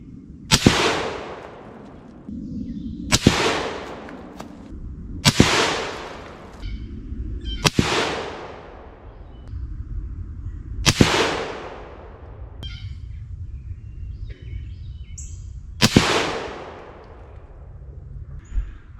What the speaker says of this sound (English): I fired 3 rounds at each target